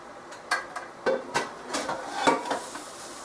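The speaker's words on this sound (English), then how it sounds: "Put it on my cutting board here." Grilled cheese sandwich set down on a cutting board in a home kitchen, a series of close, sharp knocks and clatters spread unevenly over a few seconds, with no talk.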